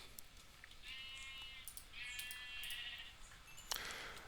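Sheep in a video game bleat twice in a row, the calls fairly faint and wavering over a quiet ambient background, followed by a short sharp in-game sound near the end.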